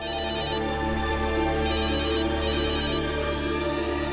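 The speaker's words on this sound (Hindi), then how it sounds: "है सिद्धार्थ का फोन।" A mobile phone ringtone plays loud and close, a steady electronic melody with repeating tonal phrases that sound without pause and with no voices.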